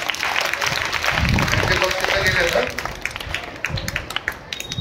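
Children in a classroom clap their hands in a short, lively burst of scattered applause that fades out, with talking heard over and after it.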